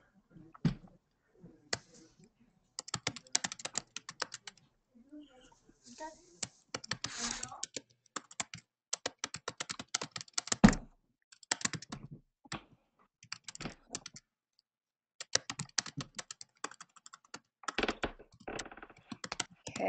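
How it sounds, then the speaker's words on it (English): Children type on computer keyboards in a classroom, bursts of rapid plastic key clicks with pauses in between, close and fairly loud, with occasional soft young voices in the room. "Okay, you're typing."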